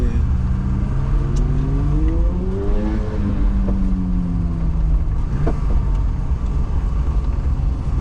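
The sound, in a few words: BMW E12 car engine revving as it accelerates again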